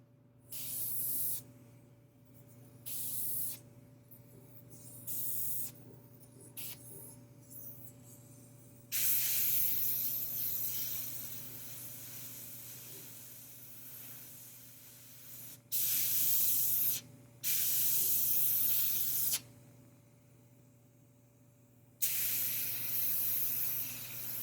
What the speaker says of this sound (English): Got my air pressure turned up pretty high to get this to go through the airbrush